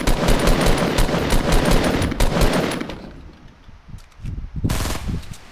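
Rapid automatic gunfire in Fortnite rattles out in dense, loud bursts for several seconds, drops to a few scattered shots, and then returns as another close burst.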